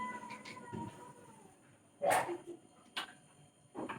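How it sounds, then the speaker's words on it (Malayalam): A cat meows a few times in short, separate calls, with a loud cry near the middle, over a quiet room with faint background sounds. "പൂച്ചയാ"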